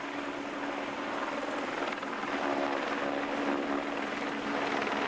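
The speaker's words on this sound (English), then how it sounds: "There's the helicopter flying overhead, bringing us these pictures." Helicopter flying overhead while filming the 2017 Flèche Wallonne bike race, a steady rotor and engine drone that stays continuous and moderately loud, slightly swelling midway.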